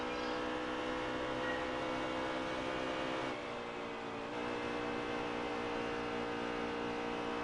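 Race car engines from a NASCAR Cup video game at Las Vegas drone steadily at close range, a dense continuous roar with a brief dip midway as cars pass by, no talking.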